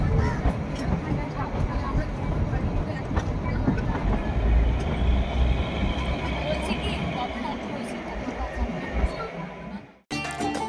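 The Kalka to Shimla Himalayan toy train runs with a continuous loud rumble and rattle of wheels and carriages, dropping out sharply near the end before resuming.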